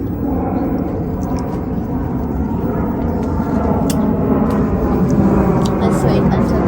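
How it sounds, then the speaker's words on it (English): An airplane passes overhead above a backyard edible garden, a steady broad engine roar that swells slightly louder toward the end, while a person talks over it. "Let's wait until the plane passes by."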